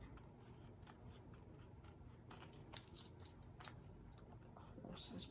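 Scissors snip through vintage journal material in a quick run of close, crisp cuts, fairly quiet with no talking.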